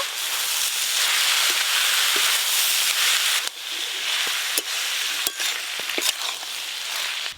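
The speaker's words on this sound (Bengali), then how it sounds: "মশলা দেওয়ার পর মোচার সঙ্গে মশলা বেশ ভালো করে কষে নিয়েছি।" Spices sautéing with chopped banana flower in a pan with mustard oil, chili paste, turmeric and salt, giving a loud steady sizzle with a few clinks and scrapes of stirring, close and without talk.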